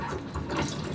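A Whale Gulper pump on a boat sucking out water, a short steady watery gurgle and rushing flow, close and moderately quiet.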